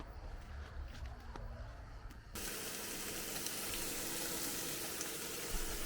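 Food frying inside a parked camper van sets off a steady sizzle. It starts abruptly partway through after a quieter stretch with faint clinks, then continues at a constant level with no talk.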